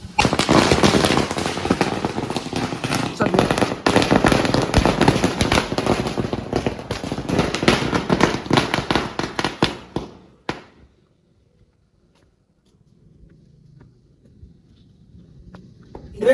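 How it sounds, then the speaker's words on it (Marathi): A long string of firecrackers bursting for Diwali, rapid loud cracks rattling densely for about ten seconds, then stopping into near silence with a faint low rumble building toward the end. "फटाके बिटाके लावायचं काम चालू आहे आपल्या इथं"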